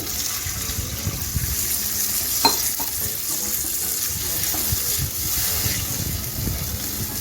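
Half a cup of water poured into a pan of poppy seeds and melon seeds frying over medium gas, giving a steady close hiss and sizzle with a few sharp crackles, no voices.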